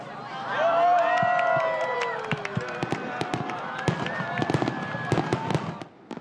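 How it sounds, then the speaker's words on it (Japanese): Fireworks whistle upward and burst over the coast in a 1,000-shell display at Okirai, Ōfunato, Japan, with many crackling pops and booms layered over a murmuring crowd outdoors. "お嫌いの夜空を彩る1000発の花火"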